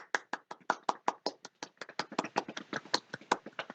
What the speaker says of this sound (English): Was I clapping for myself?